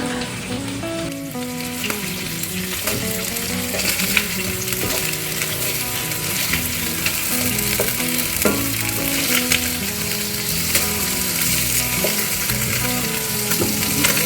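Salisbury steak patties sizzle loudly and steadily in a pan just after being flipped, a dense continuous crackle with faint music underneath and no talking.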